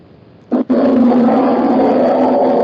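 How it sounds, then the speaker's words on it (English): A deep, sustained bear growl sounds close and loud, starting with a short burst and then holding as a steady, rough rumble. "This is a bear sound."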